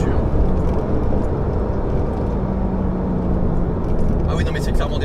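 A Porsche 997 GT2 pulls hard under full acceleration with a continuous deep engine roar heard from inside the car, steady and loud, while people talk over it.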